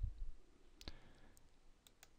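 A single crisp mouse click on a computer's Enable Access button, near and alone in a quiet room, followed by faint small ticks.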